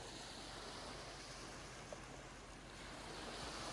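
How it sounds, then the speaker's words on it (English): Soft waves washing onto a beach beside the Strait of Georgia, a quiet, continuous hiss of surf with light wind, steady and without voices. "the soft sound of the waves."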